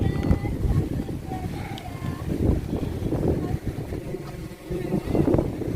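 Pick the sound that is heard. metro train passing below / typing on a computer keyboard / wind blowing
wind blowing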